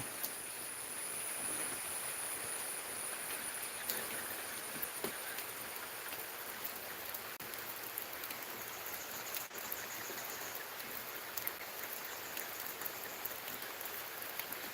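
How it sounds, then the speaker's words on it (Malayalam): Steady rain falls over Hillview Park, a hillside park at Cheruthoni in Idukki near the dam, as an even, unbroken hiss of drops with a few sharper taps and no voices. "മൊത്തം മഴയാണ്"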